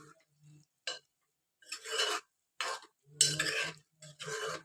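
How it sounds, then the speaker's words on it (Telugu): Spoon stirring potatoes into spinach curry in a pan, heard as short close scraping strokes in irregular bursts with pauses between. "ఇట్లా ఒకసారి కలుపుకుందాము"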